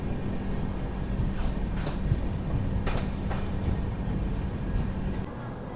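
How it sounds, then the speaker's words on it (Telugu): Padmavati SF Express (12763) pulling into platform 1 at Venkatagiri station, a steady broadband rumble with low hum and faint brake hiss running throughout, fairly loud and continuous with no talk. "సో వెంకటగిరికి మన ట్రైన్ వచ్చేసి ప్లాట్ఫామ్ 1కి అయితే వచ్చింది."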